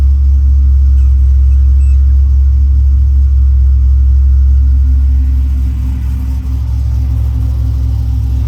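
Car engine idling steadily while the clutch is let out after installation of a new Tremec TKX transmission, a loud, deep continuous rumble with a slight dip in level near the end, no voices.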